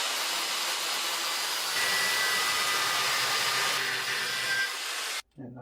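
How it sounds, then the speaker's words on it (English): Steady, loud grinding roar from a power tool cutting through the welded metal of a cotter-pin bottom bracket on a Union bicycle, continuous for several seconds before cutting off abruptly near the end. "Let's grind a bit more."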